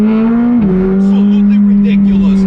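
A McLaren 765LT Spider's engine drones loud and steady from inside the cabin, the pitch dipping briefly at a shift then holding strong as the car accelerates, with faint tire noise.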